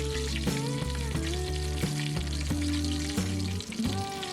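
Chicken pieces frying in hot oil give a steady, close sizzle that holds evenly throughout, with brief utensil clinks now and then.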